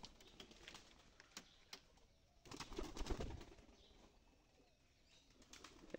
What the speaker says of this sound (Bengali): এই কপে আছে দেশি কবুতর